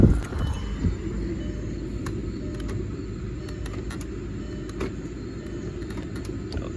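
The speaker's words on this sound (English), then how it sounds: "I'm gonna turn on the car, see if the door works and everything." The engine of a cheap project car is started with a brief loud burst, then settles into a steady low idle that rumbles on, with light mechanical clicks over the top and no talking.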